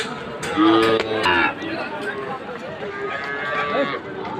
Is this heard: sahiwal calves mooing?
yes